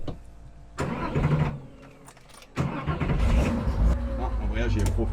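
A 1973 Porsche 911 RSR cranks and catches after a short pause, then settles into a loud, rough idle with a few blips, close by, with someone talking over it.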